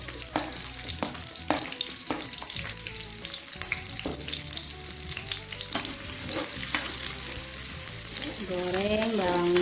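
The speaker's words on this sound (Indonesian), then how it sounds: "Goreng bawangnya sehingga merah." Sliced shallots fry in a pan, giving a steady sizzle punctuated by sharp scraping stirs, close and fairly loud, with the frying growing stronger toward the end.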